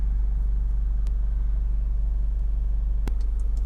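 A Honda CR-V 2.2 i-DTEC diesel 4x4 idles steadily with a low, even rumble, heard close and alone, broken by a couple of faint clicks.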